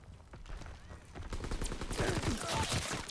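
Rapid bursts of gunfire from Call of Duty: WW2, busy and loud through the whole stretch, with dense overlapping shots thickening toward the end.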